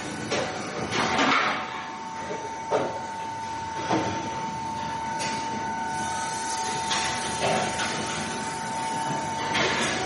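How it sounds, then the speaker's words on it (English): An automatic brake lining grinding line runs in a factory setting, making a steady mechanical hum and grinding drone with a constant tone, broken by periodic clanks and thuds from parts moving through the machine. "Second machine is for the curved side warning line grinding."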